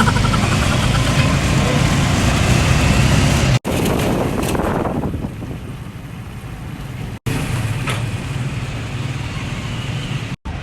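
A small motorized tricycle engine drones steadily close by with heavy wind buffeting the microphone, the rumble fluctuating and briefly cutting out a few times.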